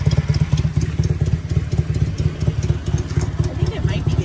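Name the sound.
motorcycle engine idling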